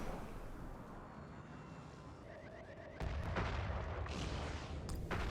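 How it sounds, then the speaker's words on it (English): Heavy weapon impacts in the space strategy game Worbital, a rumbling barrage with a loud thudding burst of hits partway through over a steady roar of game noise. "those hits, those Earthshakers"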